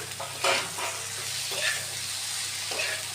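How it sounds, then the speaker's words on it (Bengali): Okra being fried in a pan with onion for a dhaba-style bhindi dish gives a steady sizzle and crackle, with a few louder stirring scrapes at intervals. There is no talk. "এখন আমরা আমাদের ভেন্ডিগুলি ঢেলে দিলাম"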